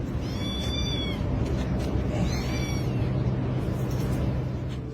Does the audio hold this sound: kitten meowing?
yes